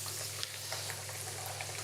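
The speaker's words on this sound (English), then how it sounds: "We're almost deep frying it with the amount of oil I have in here." Chicken shallow-frying in plenty of hot oil, a steady dense sizzle with small pops and crackles throughout.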